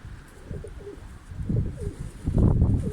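Soft, low pigeon cooing repeats in short rolling phrases, growing a little louder and closer over a quiet background.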